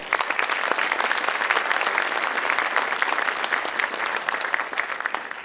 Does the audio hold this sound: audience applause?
yes